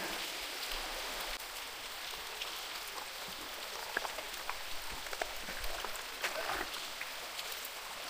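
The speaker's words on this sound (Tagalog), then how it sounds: "Umuulan na yan, ha?" Rain falls steadily at Linaw Cave on Calicoan Island, Guiuan, Eastern Samar, a dense, even hiss with scattered nearby droplet taps, continuous and moderately loud with no voices.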